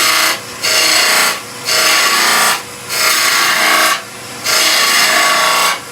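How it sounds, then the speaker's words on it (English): A skew chisel cuts a bead on wood spinning on a lathe, making loud close rasping bursts in four long passes separated by short pauses. "So using the tip of the skew to push that bead all the way down."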